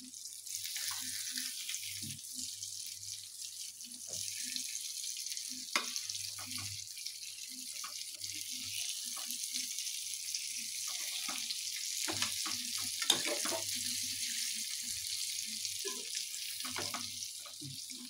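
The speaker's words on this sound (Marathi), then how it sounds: "आता ही मी दोन्ही बाजूकडून फ्राय करून घेतलेली आहे" Surmai fish pieces frying in a pan, Agri style, giving a steady soft sizzle throughout with a few faint clinks and low sounds of handling, no one speaking.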